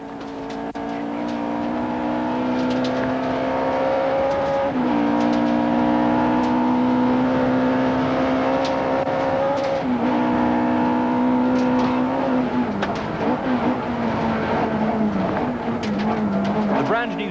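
A Nissan Sentra rally car engine revs hard from inside the cabin on a 1991 tarmac rally stage, climbing through gears in long rising pulls with brief shift dips, loud and close throughout.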